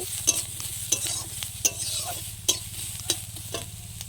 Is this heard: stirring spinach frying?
yes